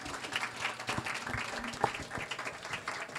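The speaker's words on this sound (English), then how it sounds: "Can I ask you all to give our panelists and our keynote speaker a round of applause, please?" A crowd applauds steadily, a dense patter of many hands clapping at once that holds for a few seconds.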